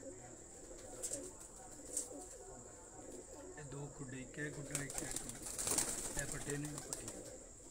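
Flock of migratory pigeons on a rooftop, low murmuring coos and wing flaps close by, with brief louder flutters, while someone speaks intermittently in Hindi-Urdu.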